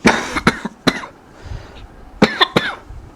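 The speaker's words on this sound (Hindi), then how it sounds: "हल्की सी मेरे को खांसी हो रही है" Several sharp, close coughs in two clusters, a pair of bursts early and another pair later, from one person, with quiet gaps between and no speech.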